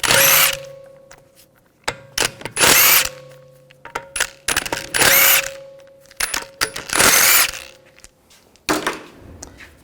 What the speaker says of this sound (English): we're going to take the lug bolts out.